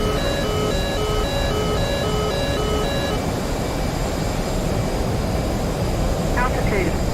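F/A-18 Hornet jet engine roaring on afterburner in DCS World, a steady loud broadband rush under repeating cockpit warning beeps, with a brief chirp near the end.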